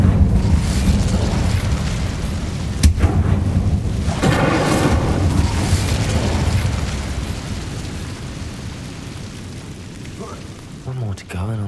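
An Incendio fire spell is cast in Hogwarts Legacy, a deep whooshing rumble of flame with a bright crackling burst in the middle, fading toward quiet.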